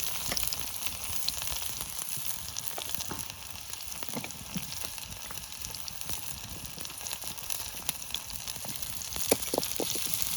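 Chopped green chili and ginger sizzle steadily in hot oil in a pan, a dense continuous frying hiss with scattered crackles and pops, close and moderately loud, with faint stirring scrapes and no talk.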